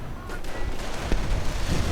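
A Panther tank lays down covering fire in a World War II strategy game: a couple of booming cannon shots ring out over a dense, rumbling battlefield din of distant gunfire.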